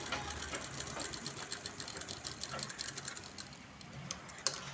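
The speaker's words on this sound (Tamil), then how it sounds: "உங்களுக்கு இப்போ தைக்க ஆரம்பிச்சிடலாம்." A tailoring sewing machine stitches fabric with a continuous, fast mechanical chatter. The sound is fairly faint and steady and plays alone, with no voices.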